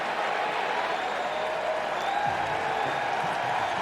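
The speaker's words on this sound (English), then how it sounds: "Big reception for Bobby Witt Jr. It's almost like this crowd is willing, imploring their superstar to have a big night." Baseball crowd at a Yankees–Royals ALDS playoff game gives a big, steady reception to the batter coming up, a broad continuous roar and applause filling the stadium throughout.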